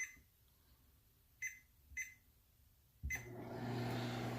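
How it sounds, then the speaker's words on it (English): A microwave oven is set to high power: a few sharp keypad beeps, then a steady, fairly loud electric hum with a low drone once it starts running. "I have to microwave it on high for 2 minutes."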